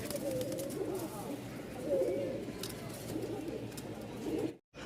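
Giribaj pigeons coo repeatedly in low, throaty bursts close by, with soft rustling and background noise throughout.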